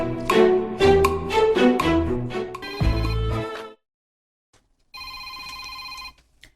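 A phone rings for an incoming call with a loud, melodic ringtone of quick bright notes, then cuts off into brief silence, and a thinner ringing tone follows a moment later.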